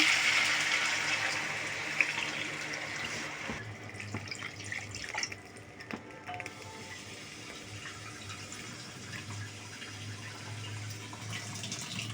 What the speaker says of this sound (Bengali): এবার জল দিয়ে দিলাম দেখুন